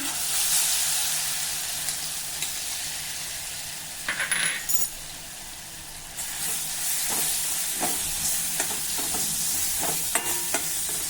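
Lentil paste fries in a pan with cumin seeds, turmeric and asafoetida, giving a steady hiss of sizzling oil. Intermittent spoon scrapes and clicks sound as it is stirred, close by and with no talk.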